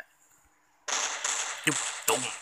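Gunfire erupts in the mobile shooter game Standoff, with dense, rapid bursts of shots that start abruptly after a quiet moment. Two sharper blasts punch through near the end, and a voice is faintly present.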